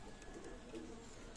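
A breeding pair of Pakistani pigeons gives a brief, soft coo, faint and low against a quiet background.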